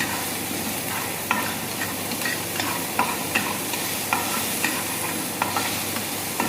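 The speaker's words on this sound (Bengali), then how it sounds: "বেশি সতে করবো না, হালকা সতে করবো।" Food lightly sautéing in a pan in a hotel management institute kitchen, a steady broad sizzle with regular soft clinks and scrapes of stirring, close and continuous with no talking.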